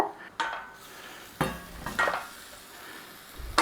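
Chopped onion goes into hot olive oil in a pan, with clattering and scraping of pans and utensils in bursts over a soft sizzle.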